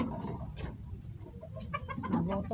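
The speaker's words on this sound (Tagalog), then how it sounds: "Nagutom na talaga yung manok niya guys." Hungry chickens cluck in short scattered bursts, quiet and close, with soft rustling between the calls and no talking.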